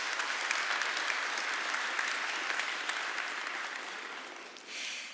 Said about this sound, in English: So let's make a round of applause.